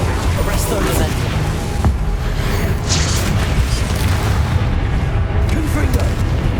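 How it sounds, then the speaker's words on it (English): A spell explosion in the Hogwarts Legacy video game, a loud booming blast amid dense, continuous combat noise, with a voice talking over the action. "Explosion."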